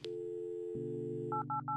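A telephone in the video game Kathy Rain gives a steady dial tone, then a quick series of three short DTMF dialing beeps, clean and close.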